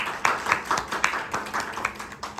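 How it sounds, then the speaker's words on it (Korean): Scattered applause for a presenter at a Korean computing conference session on attention-based network traffic analysis: a small audience gives sparse, uneven claps, each sharp and distinct, in a quiet room. "충실한 발표 진행해 주신 발표자분께 박수 한번 부탁드리겠습니다"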